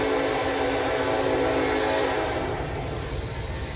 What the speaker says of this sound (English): they're freight trains these days, so they don't stop anymore. But you can hear it coming closer.